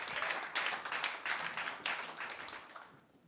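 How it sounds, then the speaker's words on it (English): Audience applause fills an awards ceremony hall, a dense, steady wash of many hands clapping that swells in waves and then fades toward the end. "Let's give him a round of applause."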